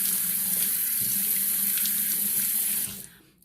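Tap water running into a bathroom sink while soap is rinsed off the mouth, a steady close splashing stream that cuts off near the end.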